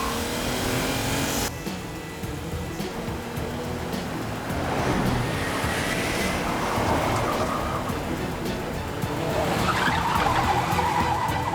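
A car speeding through a chase with tires skidding, heard as a steady, loud roar of engine and road noise with rushing, surf-like swells and no talking.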